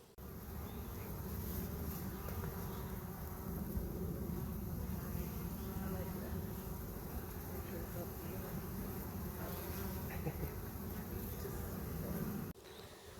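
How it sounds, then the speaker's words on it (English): Honeybees buzz steadily around a hive on a bright spring day, a dense, continuous drone of many wings that holds loud and even for about twelve seconds before dropping off. "the bees are eager to be out and working"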